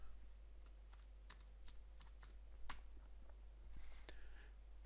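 Computer keyboard typing in a quiet room, a username keyed in as a series of soft, close clicks in short irregular bursts over a low steady hum.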